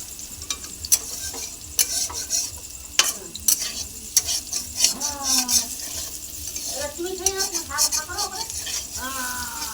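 Bombay duck (lote fish) frying in a pan, a steady sizzle under repeated sharp scraping stirs of a spatula, with a few curving squeaky tones rising near the end.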